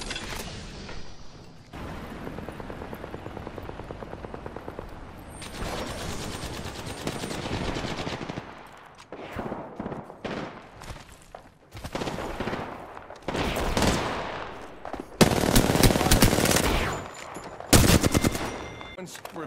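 Bursts of automatic machine-gun fire in a multiplayer shooter game, rapid rattling volleys coming in repeated loud stretches with short gaps between them, alone.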